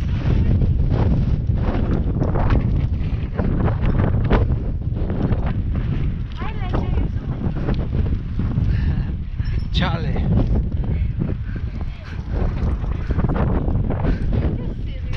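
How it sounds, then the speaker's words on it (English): Strong wind gusting on a city street buffets the microphone in a steady, loud roar that runs the whole time, with people talking underneath. "Oh my god, it's so windy."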